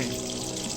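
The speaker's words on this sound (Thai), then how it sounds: "เอ้า มีน้ำไหล" Water runs steadily from a tap inside the Roblox horror game Evelyn, a continuous close hiss that fills the whole moment without pause.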